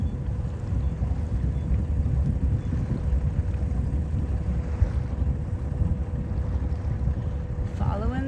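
A sailboat motoring through calm water on a windless day on the Chesapeake toward Norfolk, a steady low engine drone with water wash and some wind noise at the microphone, continuous and close.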